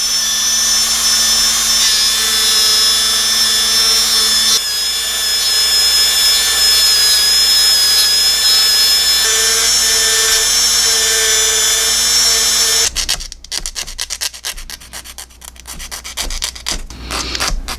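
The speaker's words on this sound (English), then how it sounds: "just use a little more of the Dremel and just work it" A Dremel rotary tool grinds a plastic model car grille for an 80s NASCAR Monte Carlo, a high steady whine that shifts pitch under load, then breaks into rapid scratchy bursts of rubbing contact near the end.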